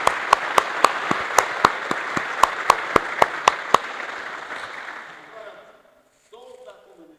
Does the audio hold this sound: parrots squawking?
no